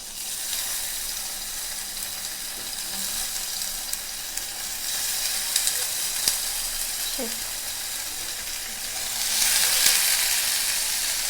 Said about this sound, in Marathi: आता हे बऱ्यापैकी फ्राईड झालेले आहेत सगळे